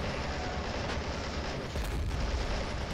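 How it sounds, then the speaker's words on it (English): Heavy, rumbling explosions from a fuel truck blown up in the war game Men of War Assault Squad 2, a dense, continuous roar with a deeper boom swelling near the end. "we have to blow up the fuel truck to make a massive explosions"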